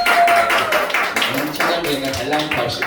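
A church youth service congregation gives a brief burst of applause, quick overlapping claps lasting a couple of seconds, mixed with a speaker's voice talking over it.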